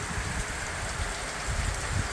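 Heavy rain pours down steadily in Tonga in a dense, even hiss of drops pattering on surfaces, with strong wind and no voices.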